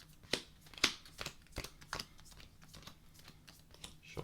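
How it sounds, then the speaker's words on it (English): Sleeved Yu-Gi-Oh! trading cards being shuffled by hand, giving a series of close, soft riffling and snapping bursts at irregular intervals with light rustling between them, and no voices. "we've got our deck here. So we're going to give it a nice little shuffle on camera."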